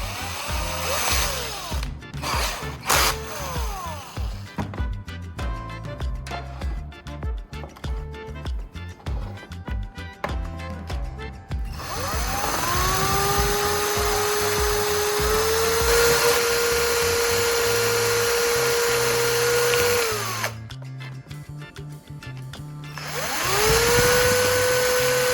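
Soldering iron tip being ground sharper with a power tool: a high whining motor spinning up and holding steady, interrupted by stops and restarts, with rattling tool handling between runs, close and fairly loud.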